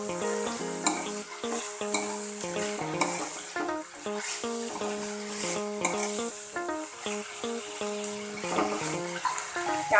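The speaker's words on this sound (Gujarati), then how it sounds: "આપણે 3 કલરના કેપ્સિકમ એડ કરી દઈએ. બરાબર મિક્સ કરી લઈએ." Three-colour capsicum is stirred and fried in a pan for a pizza-pocket filling, a steady close sizzle broken by repeated scraping and stirring clatters, with no voices.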